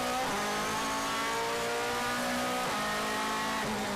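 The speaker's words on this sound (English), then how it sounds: "Back into the cockpit of the Mike Rockenfeller car." Onboard a DTM race car lapping Hockenheim, the engine screams at high revs in a steady roar, with quick downshift dips as the pitch drops and climbs again between gears.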